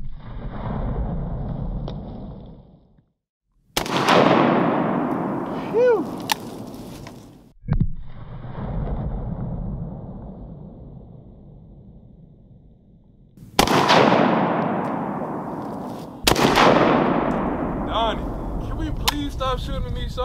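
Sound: gunshots shooting at soda cans

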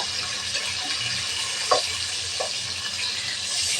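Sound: hilsa fish frying in a pan

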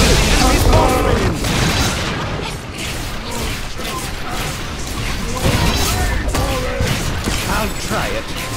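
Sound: unstable rift being destroyed, video game Orcs Must Die! Unchained

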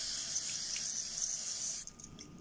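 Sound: circuit cleaner spray on circuit board

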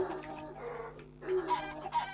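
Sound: chicken clucking in Minecraft video game

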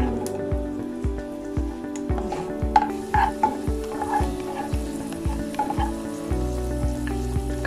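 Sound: cashews frying in ghee in a pan

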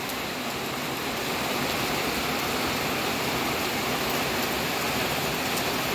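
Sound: heavy rain falling at a garden house by a pond

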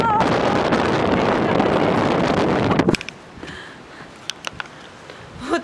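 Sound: strong wind

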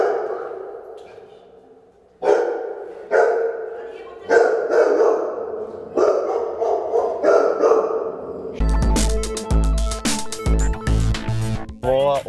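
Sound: two dogs barking in an apartment hallway

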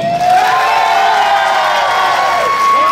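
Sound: audience applause

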